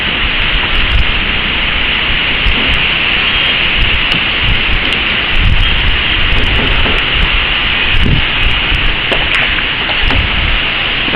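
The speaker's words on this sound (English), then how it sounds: "this is Thetis Island on a very windy day." Strong wind gusting across Thetis Island, a steady broadband roar that swells and dips, with low rumbling buffets close to the microphone and no voices.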